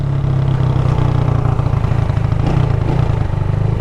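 A motorcycle ridden in second gear, its engine droning loud and steady close by with a low lugging rumble and light mechanical clatter, no talk.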